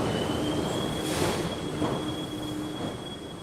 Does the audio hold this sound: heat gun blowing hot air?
no